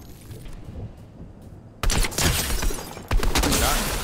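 Bursts of tracker pistol gunfire in a battle royale video game, loud sharp volleys starting abruptly partway through and repeating in quick succession after a quieter stretch.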